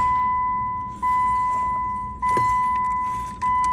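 An ignition key turned repeatedly in a Chrysler PT Cruiser with a faulty ignition switch that will not start: a steady chime tone with three sharp clicks and brief key jangles, no engine cranking.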